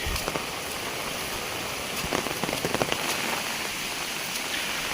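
Steady rain patters densely on leaves and ground in a sacred forest grove, a constant close hiss with scattered louder drops; no voices.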